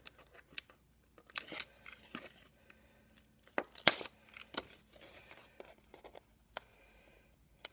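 Score tape being handled at a craft table while a box frame display for ATC cards is assembled: quiet crinkling, tearing and scratchy paper-like sounds in scattered short bursts, close and fairly soft, with no talking.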